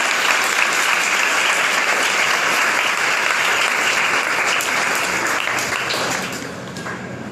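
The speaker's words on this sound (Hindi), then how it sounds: "और जितने लोग खुश हैं प्रभु के लिए ताली बजाएं" A church congregation at a live worship meeting claps together, loud sustained applause filling the room for several seconds before thinning out toward the end.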